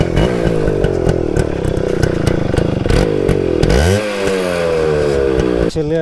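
A 23-year-old motorcycle with its stock muffler idles loudly and close by, giving a rapid, uneven thumping. The engine revs briefly and then settles back to a lumpy idle.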